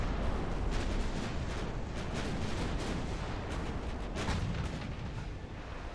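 Battleship main guns fire in the naval video game Ultimate Admiral: Dreadnoughts as a continuous rumbling barrage of booms and blasts, dense and loud for the whole stretch, with no voices.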